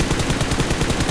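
Rapid gunfire from the mobile battle royale game PUBG Mobile rattles loudly and continuously, a dense burst of shots filling the whole short moment.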